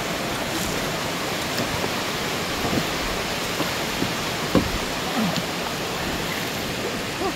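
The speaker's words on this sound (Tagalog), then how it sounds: "Sa lakas ng agos ng tubig" Broad, continuous rushing of a strong river current near Pagsanjan Falls, Laguna, loud and close, with small splashes and knocks scattered through the steady roar.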